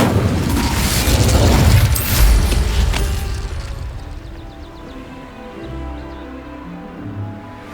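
Incendio fire spell cast in Hogwarts Legacy, a loud whooshing, crackling burst with a low boom that swells over the first three seconds, then fades into a quieter rumble with faint mechanical ticks.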